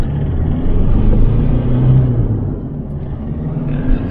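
A Ford Ranger with a 3.0 diesel engine, one that blows black smoke and is hard to start, drives on the road with a loud, close, steady low rumble that swells slightly as it pulls; no voices.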